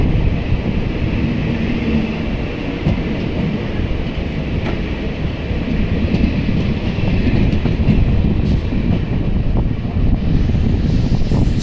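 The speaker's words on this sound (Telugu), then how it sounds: "Vasco D gamma Shalimar Amaravati express last ICF run అనమాట" The Vasco da Gama–Shalimar Amaravati Express, on its last run with ICF coaches near Rangapuram station outside Dhone Junction, rumbles past close by with continuous loud wheel roar, rhythmic clacking and wind buffeting on the microphone.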